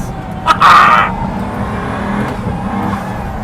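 A Pagani supercar engine is heard on a narrow mountain pass, close and loud, with a steady roar and a brief high-pitched whine or tyre squeal near the start.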